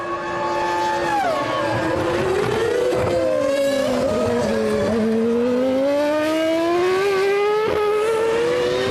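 Formula 1 race cars at the 1999 French Grand Prix at Magny-Cours scream past loudly, their high engine whine sweeping up and down in pitch through gear changes as they pass close by, with no talk over it.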